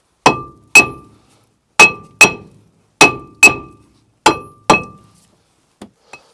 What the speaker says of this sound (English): for the disc brake we're going to use a hammer and just give it a few taps